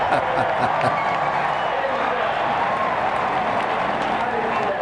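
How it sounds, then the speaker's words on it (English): A large crowd at a NASCAR race cheers and applauds in a continuous distant roar that holds steady throughout. "Listen to the crowd."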